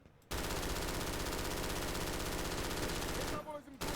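A machine gun fires in the shooter game Brink, a dense, rapid, unbroken burst of automatic fire that runs loud for several seconds, then stutters and stops.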